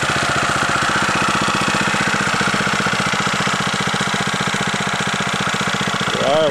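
A homemade outboard boat motor built on a 173cc four-stroke vertical-shaft lawnmower engine idles with a fast, even chugging that stays loud and close throughout.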